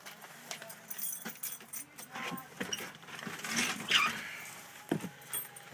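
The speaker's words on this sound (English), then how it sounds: "we'll take our keys" A set of school bus keys jangles close by inside the bus, a series of irregular metallic clinks and rattles spread over several seconds.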